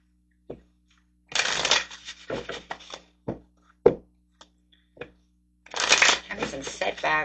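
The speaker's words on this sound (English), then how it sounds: "let's get some tarot cards over here" A deck of tarot cards is shuffled up close in two brisk, papery riffling bursts, with a few soft taps and card handling sounds in the quiet gaps between them.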